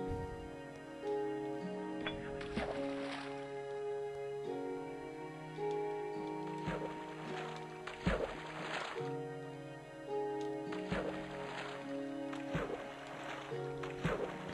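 In Minecraft, boat oars splash and creak in a steady rhythm, with a sustained musical tone beneath.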